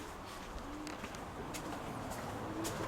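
Soft low cooing from pigeons, a few drawn-out murmured calls over a steady background hiss, fairly faint and unhurried.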